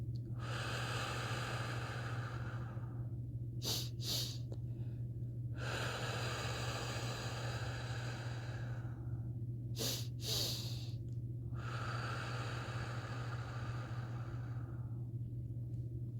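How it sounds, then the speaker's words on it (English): Breathing exercise with two quick sharp sniffing inhales followed by one long drawn-out exhale, repeated in three cycles, close and clear over a steady low hum. "The bunny breath, 2 quick in and 1 long one out, is going to bring your body back to homeostasis after 3 breaths."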